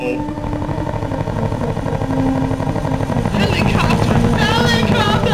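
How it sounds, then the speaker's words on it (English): Helicopter in the DOS game Cannon Fodder, a steady rotor drone with engine hum that grows louder toward the end, under game music and effects. "Helicopter! Helicopter!"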